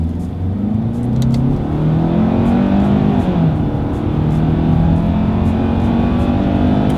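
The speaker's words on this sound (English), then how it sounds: "Let's put this acceleration here to the test, and let's see how quickly we can get our new 2024 Tucson here up to speed" A 2024 Hyundai Tucson SUV accelerates uphill, its engine note climbing steadily and loud from start to finish, with a rising drone and a brief dip midway like a gear change.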